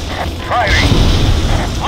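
Bombs from a video game air strike going off as low, rumbling booms with mechanical clatter, loud and close, while a voice talks over them.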